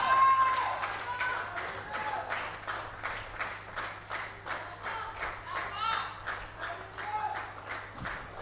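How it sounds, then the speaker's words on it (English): A handful of people in a cricket dressing room and a few supporters outside clap in sparse, rhythmic bursts at a school under-19 tournament final. The claps are fairly distant, with a commentator's voice and a soft background hum. "So there's a few claps from the dressing room, and a few supporters out there."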